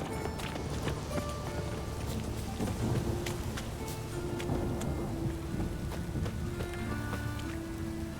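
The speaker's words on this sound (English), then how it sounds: "A real cloudburst." Heavy rain pours steadily in a Witcher 3 video game thunderstorm, a dense, continuous hiss with low rumbling underneath, holding an even level throughout with no voices.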